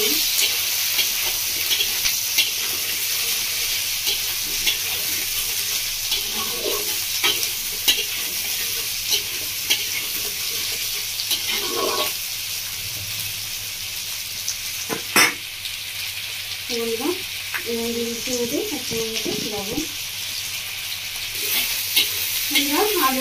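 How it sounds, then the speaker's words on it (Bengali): Pointed gourd and potato pieces with onion fry and sizzle steadily in a pan, with repeated stirring scrapes over the continuous crackle throughout. "এবার দেবো আমি কেটে ধুয়ে রাখা পটল আর আলু।"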